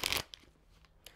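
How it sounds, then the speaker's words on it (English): Tarot cards shuffled in a burst of dense papery riffling at the start, followed by a few faint taps and card slides in a quiet room. "Enough with the shuffling."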